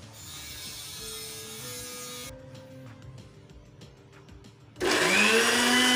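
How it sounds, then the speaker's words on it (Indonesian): A decades-old glass-jar blender runs with water and curry spices, first a whirring grind, then a quieter stretch with clicks, then a sharp loud surge of the motor at the end. "Ya, siap kita blender."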